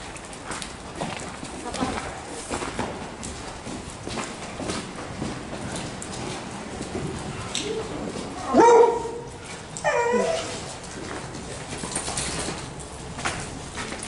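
A beagle out on a city street gives a couple of short, sharp barks and yelps near the middle, set against ongoing street noise and some bird sounds.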